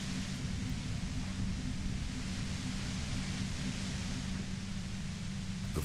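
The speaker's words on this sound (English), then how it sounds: "The violet-white noise becomes even more overwhelming closer to the compressor." Dense, steady hiss of overwhelming white noise near a compressor in a video game, loud and unbroken throughout with a constant low hum beneath it.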